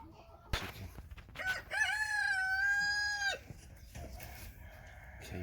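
A small hen in a backyard gives a sharp cluck, then a long, loud crow close by, followed by softer clucking.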